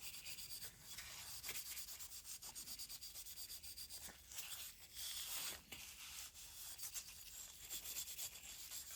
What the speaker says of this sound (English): Now we will sand extremely lightly.